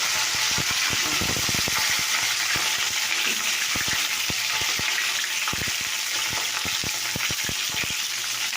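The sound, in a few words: cauliflower frying in a pan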